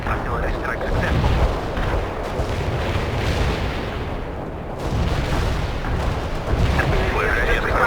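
Artillery strike explosions in the video game World in Conflict, a continuous rumbling barrage of booms and blasts with loud low-end surges, mixed with game chatter.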